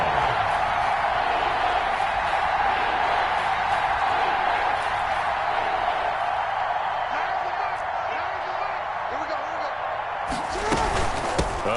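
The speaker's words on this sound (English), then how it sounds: "the crowd getting into it as we come up on a big 3rd down" Crowd in a Madden football video game roaring steadily in a stadium before a big third down, a broad sustained cheer under play-by-play commentary, with sharp thuds near the end.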